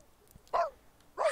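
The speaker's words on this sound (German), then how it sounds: "Oh Gott, die Hunde. Diese ganzen Hunde hier immer." Dogs in The Sims 3 game give two short, clear barks about half a second apart, close and fairly loud over quiet game background.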